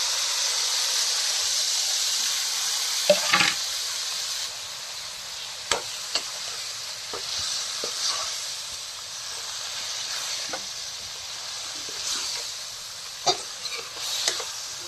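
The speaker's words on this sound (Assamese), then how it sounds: "আনাৰসটো মই 10-15 মিনিটমান মই ভাজি থাকিম।" Cut pineapple pieces fry in a pan for a homemade chutney, with a steady, close hissing sizzle broken by occasional light knocks of a spatula.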